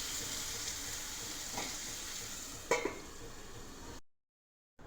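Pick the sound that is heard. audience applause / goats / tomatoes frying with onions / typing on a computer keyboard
tomatoes frying with onions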